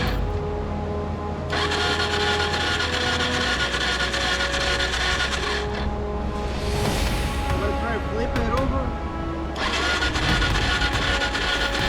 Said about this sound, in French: Michel fait tourner le moteur sans les bougies pour évacuer l'eau à l'intérieur du tuyau